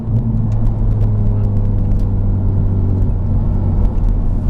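E85-tuned Honda Civic Type R FK8 under hard acceleration, a loud, steady in-cabin engine drone and road rumble, no speech.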